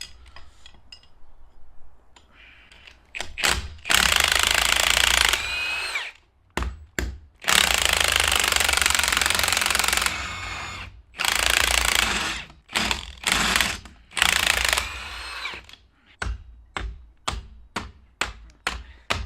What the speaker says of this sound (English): I can't believe you're using your gun as a hammer